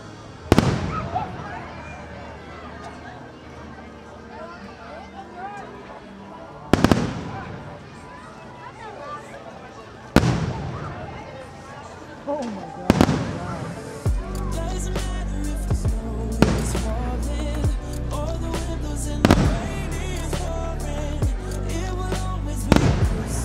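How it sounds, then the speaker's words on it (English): A holiday fireworks show booms with sharp, loud bursts every few seconds, growing denser with crackling toward the end, while crowd noise and music carry on beneath. "During fireworks."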